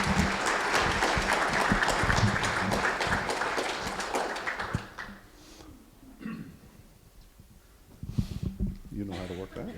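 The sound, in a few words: audience applause welcoming the speaker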